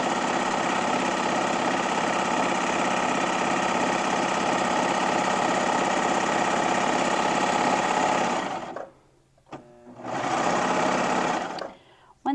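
A serger overlocker runs a shirt seam in a long, steady, close mechanical whir with a rapid stitching rhythm. It stops abruptly, restarts briefly, pauses, then catches again at the very end, with no voices over it.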